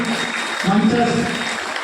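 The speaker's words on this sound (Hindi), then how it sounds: "जोरदार तालियां।" Clapping from an audience at a school event in Sujangarh, a short burst of applause that swells briefly mid-clip, with voices audible over it.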